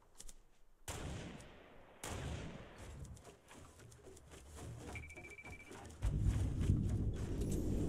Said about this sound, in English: Where in the world did that shot just come from?